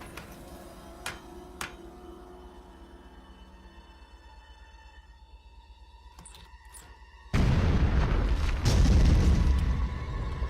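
A cartoon explosion blasts apart a rock, opening with faint ticks and sparse pops before a sudden loud, sustained boom with rumbling debris that carries on for several seconds.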